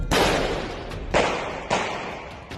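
Three sharp gunshots from a terrorist attack in Vienna, captured on CCTV, ring out, one then two more in quicker succession, each with a loud crack and a fading echo. No talking.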